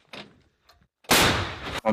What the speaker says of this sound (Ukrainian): Гармата, Постріл!